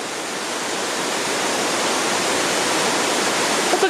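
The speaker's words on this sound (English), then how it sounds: "A really pretty waterfall." A waterfall along a hiking trail pours in a loud, continuous roar of churning water, close and unbroken, swelling slightly toward the end with no one speaking.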